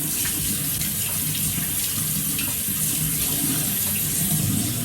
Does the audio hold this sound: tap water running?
yes